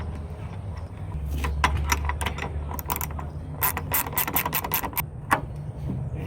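A 3/16 Allen key turns Allen screws on a Traxion tailgate ladder mounted on a Ford F250, giving close, irregular clicking and ratcheting metal taps over a low steady hum.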